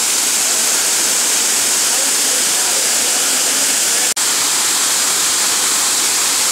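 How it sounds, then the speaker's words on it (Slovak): A waterfall formed by a stream roars in a steady, loud, unbroken rush of white water, close by and filling the whole scene without pause. "Ten potok, tvoriaci ten vodopád."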